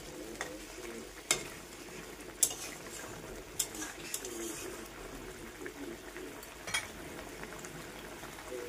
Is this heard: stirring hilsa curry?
yes